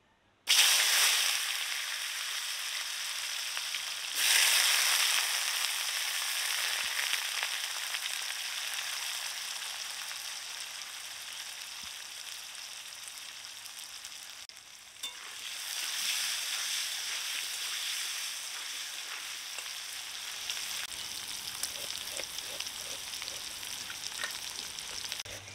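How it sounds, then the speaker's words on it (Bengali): Potatoes fry in oil with salt and turmeric in a hot pan, giving a steady broad sizzle that runs almost the whole time, with a few louder bursts where the pan is stirred. "এবার নুন হলুদ দিয়ে আলুগুলো ভেজে নেব।"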